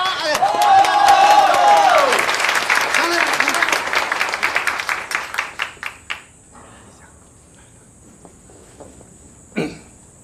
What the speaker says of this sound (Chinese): 我来鼓掌。